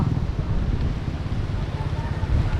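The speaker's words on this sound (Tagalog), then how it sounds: "maulan ang panahon mahangin" Steady wind rumbling against the microphone in rainy weather, a constant low roar with no pauses and no voices.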